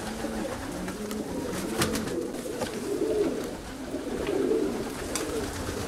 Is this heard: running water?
no